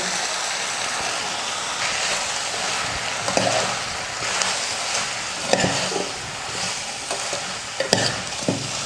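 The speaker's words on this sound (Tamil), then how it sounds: "மிளகாய் பொடியோட பச்சை வாசனை போகிற அளவுக்கு கொஞ்சம் நேரம் வதக்கிக்கலாம்" Chilli powder, turmeric, coriander and sambar powder sizzle in a hot pan for sambar as a spoon stirs them, a steady frying hiss with repeated scraping knocks close by and no talking.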